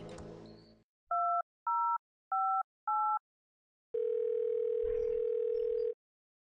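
Telephone dialing in the Thimbleweed Park video game: four clear two-tone keypad beeps in steady rhythm, followed after a pause by a steady, loud dial tone lasting about two seconds, with no talking.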